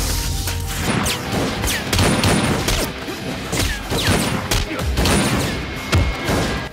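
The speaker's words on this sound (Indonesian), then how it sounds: "Ini mah lebih saling adu tembak ya." Chaotic fight scene with a rapid exchange of gunfire: loud repeated impacts and crashing bursts packed closely together over a continuous din, with no pause between hits.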